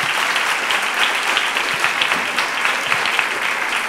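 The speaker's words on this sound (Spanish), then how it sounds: "Andrés Cantero, un aplauso." An audience at a children's reading contest applauds, a dense, even wash of many hands clapping together for a few seconds, loud and close, with no talking over it.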